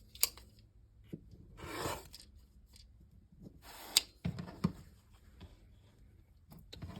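Fabric strips are cut into 60-degree quilting triangles against a ruler, with quiet, scattered cutting strokes, rustles and soft taps of fabric and ruler, up close, with no talking.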